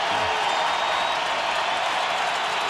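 A football stadium crowd at a 2006 NFL game, New England at Tennessee, roars in a steady broad wash of cheering and scattered clapping that holds at even loudness throughout, with no single voice standing out.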